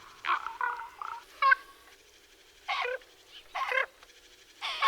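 Ravens croaking in marshland wilderness, several separate harsh, throaty calls in short bursts with pauses between, fairly close and clear against a quiet background.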